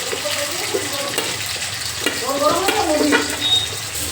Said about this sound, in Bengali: পেঁয়াজ টমেটো ভালো করে ভাজা হয়ে গেছে